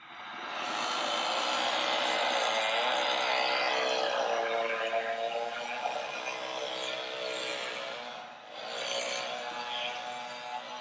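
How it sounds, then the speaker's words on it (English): A loud, continuous buzzing engine roar with a wavering pitch, like a revving chainsaw, dipping briefly before surging again. "You probably thought that was a motorcycle, but that was a chainsaw."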